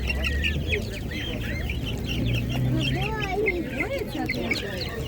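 Hens cluck and chatter close by at a Ukrainian village market, overlapping squawks and throaty calls carrying on steadily while people talk over them.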